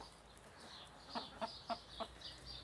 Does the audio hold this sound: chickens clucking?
yes